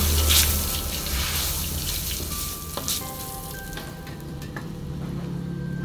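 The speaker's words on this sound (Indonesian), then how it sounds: "saya mau masukkan ke sini terasi sama minyak panas" Shrimp paste (terasi) sizzles and crackles steadily in hot oil in a home kitchen, with occasional stirring and scraping clinks over the continuous fry.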